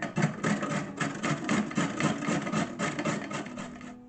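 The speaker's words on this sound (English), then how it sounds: "the only vegetables or anything that I have to prep for this is to grate the carrots" Carrots are grated by hand, giving a rapid run of rhythmic rasping scrapes, each stroke a short gritty burst, fairly close and steady before trailing off at the end.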